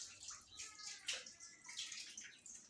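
Water splashing and trickling as a cashew leaf and toothbrush are rinsed, a soft, close, uneven stream of wet spatter with small drips, fairly faint.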